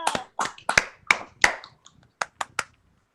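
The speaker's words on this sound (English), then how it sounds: "you might as well pound your paws for Noah." Scattered claps from a few people on a video call, irregular and close, fading out after about three seconds with no talk.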